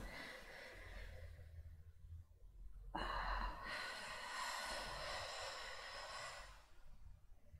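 Heavy breathing during a hypnosis session: a sudden loud, breathy rush near the middle that holds for several seconds before fading, close and without speech.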